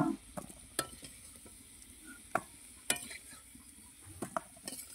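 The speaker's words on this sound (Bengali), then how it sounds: "তো ফুলকপিটা ভালো করে লাল লাল করে ভেজে নিচ্ছি।" Cauliflower pieces frying in oil in a pan after potatoes, with a steady low sizzle broken by several sharp clinks and scrapes of a slotted spoon stirring and lifting.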